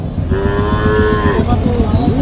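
A cow of a local native breed lets out one long, loud moo close by, over a noisy, crowded background at a cattle market.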